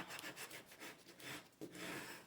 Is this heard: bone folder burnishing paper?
yes